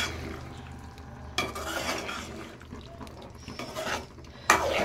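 Spoon stirring a potato, pea and tomato curry in a pan, with soft scraping and clinks against the metal, a couple of sharper knocks, and a faint sizzle underneath throughout.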